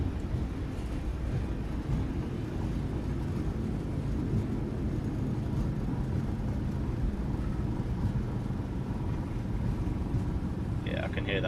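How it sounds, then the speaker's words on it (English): Thrust reversers of a PMDG 737-800 roar during landing rollout in Microsoft Flight Simulator, a loud, steady broadband rumble filling the whole stretch, with a voice talking over it. "Yeah, I can hear them reverses, they sound quite nice"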